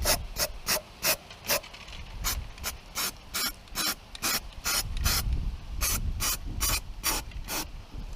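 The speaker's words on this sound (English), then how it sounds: "I can't spray very well with my left hand." Repeated short hissing bursts of an aerosol spray can painting Rover 75 rear suspension arms, about twenty quick sprays in an irregular rhythm, close by, with a low rumble of wind underneath.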